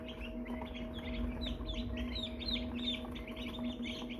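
Soft, high peeping from a group of small American Bresse chicks, repeated chirps over a steady low hum, fairly quiet and continuous.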